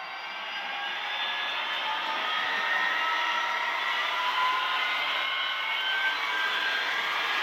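Athearn model diesel locomotive running with its engine sound, a steady droning hum that swells slightly and holds level throughout, with no talk.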